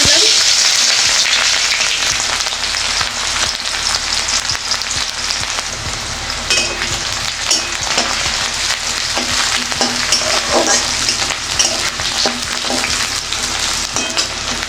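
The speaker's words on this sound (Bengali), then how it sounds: "আমার তেল গরম হয়ে গেছে," Chopped onion dropped into hot oil in a pan, giving a loud, dense, continuous sizzle with occasional crackles and light stirring, close up and steady throughout.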